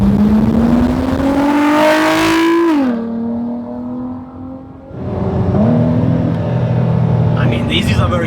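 Ford GT sports car engine revving hard on a hillside road in southern Spain, pitch climbing through gears then dropping off and rising again, loud and close with people talking over it.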